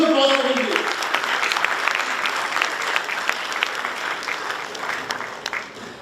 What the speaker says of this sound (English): A huge applause for him.